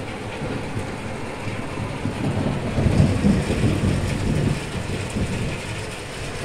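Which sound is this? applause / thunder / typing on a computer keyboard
thunder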